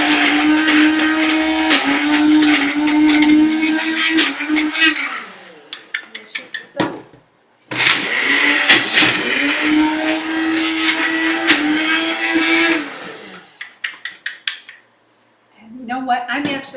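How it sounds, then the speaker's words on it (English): A kitchen blender whirs loudly and steadily while blending vegan raspberry fudge frosting, stopping briefly midway and again near the end, with a few clunks and taps between runs. "I'm actually going to put this into our other blender here"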